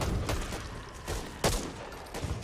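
Video-game gunfire in Back 4 Blood: a few sharp, loud shots fired at irregular intervals over a low background rumble.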